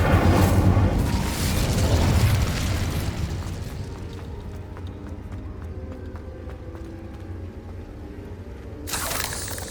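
Fiery spell explosion from the Incendio charm in the video game Hogwarts Legacy: a loud, broad burst at the start that fades into a lingering rumble, with a short bright swell near the end.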